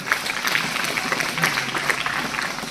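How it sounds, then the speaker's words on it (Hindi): Students clapping together during a principal's Independence Day address at a school, a steady dense patter of many hands lasting throughout, fairly close and without speech over it. "उसके लिए भी जोरदार तालियां।"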